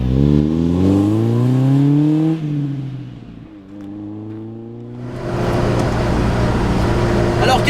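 A Lotus Exige S1 sports car engine revs up through rising gears, drops back, then surges again with loud, close intake and exhaust roar.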